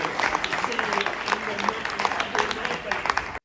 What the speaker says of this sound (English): one massive, big, ongoing round of applause to the great Charles Ardai